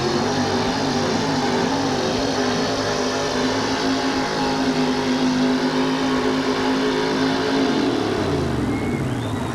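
A 1942 Chevrolet truck with a 454 Chevy engine roars at a sustained high-revving pull during a truck pull event, loud and steady, then dropping in pitch near the end.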